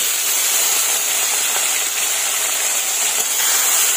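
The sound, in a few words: shrimp frying in hot oil with spices and bay leaves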